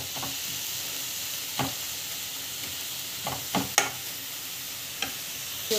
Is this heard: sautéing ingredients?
yes